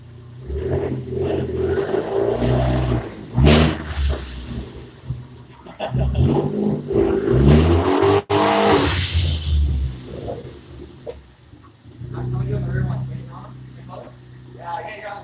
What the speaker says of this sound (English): then I'm gonna hit the gas and drive up the board